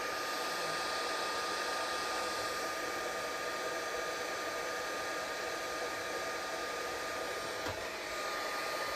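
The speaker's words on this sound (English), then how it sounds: "This heat gun takes a couple minutes to warm up." A heat gun blows hot air while warming up, a steady, close whooshing hiss that stays constant throughout with no speech.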